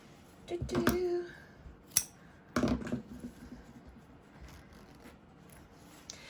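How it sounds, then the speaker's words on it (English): Scissors snip through a zipper a few times at close range, several crisp cuts with short pauses between them, then quiet rustling afterward. "cut this zipper down"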